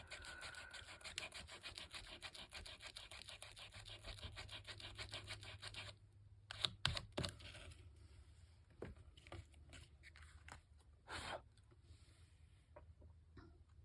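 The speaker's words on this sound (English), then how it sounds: "I think I'm going to do a little bit of sanding on this too." Fine sandpaper rubs back and forth over the slick surface of a coin envelope in a quiet craft setting, a soft steady rasping for several seconds, then scattered faint scratches and light taps.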